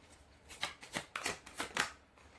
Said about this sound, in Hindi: जब तक मैं शफल कर रही हूँ